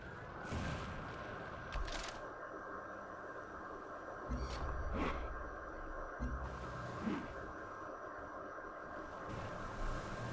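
Bursts of unit gunfire and booming impacts from Civilization: Beyond Earth as units fire on a worm, several separate volleys spread through a steady background hum, moderately loud, with no talk.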